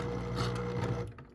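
Sewing machine making a single short stitch run on a memory ornament, a brief close mechanical whir of about a second that stops abruptly, with no talking.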